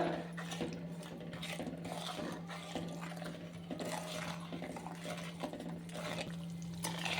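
Stirring fenugreek and mustard powder into lemon pickle in a pan, with soft scraping and clinking of a spoon over a steady low hum, no talking.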